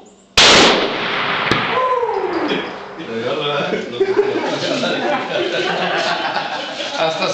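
A single .50 caliber rifle shot fired outdoors, a sudden, very loud close blast followed by a long rolling echo, with people talking and laughing afterward.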